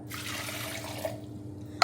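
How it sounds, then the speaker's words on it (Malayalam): Water poured from a cup into a mixer jar holding carrot pieces for halwa, a steady splashing pour lasting about a second before trailing off, close and fairly quiet. "1 കപ്പ് വെള്ളം ഒഴിച്ച് കൊടുക്കുക."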